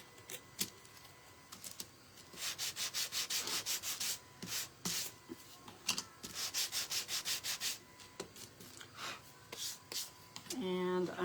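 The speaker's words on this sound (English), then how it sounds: "now I'm going to take my sander and just sand it down just a little bit" Electric sander rasping over wood for a primitive turkey craft, a steady gritty scrubbing that comes in repeated strokes and short bursts, fairly close and continuous for most of the stretch.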